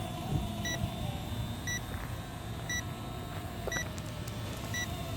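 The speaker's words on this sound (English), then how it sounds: "Maybe that was beeping to tell me that the batteries was going on the quad" A Tiny Hawk micro quadcopter drone sounds short high warning beeps for low battery, evenly spaced roughly once a second over faint motor hum and background noise.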